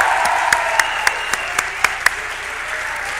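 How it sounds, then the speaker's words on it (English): A crowd at a fall sports awards event gives the coaches a round of applause, a loud continuous patter of clapping with several sharper individual claps standing out near the front. "Give them a round of applause"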